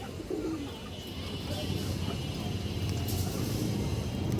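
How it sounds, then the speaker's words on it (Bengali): Farm-kept running pigeons coo softly in low, throaty bursts nearby, over a steady background hum, with a voice faintly present. "এগুলো উড়ানো কবুতর দর্শক, একদম রানিং কবুতর, ডিম বাচ্চা করা"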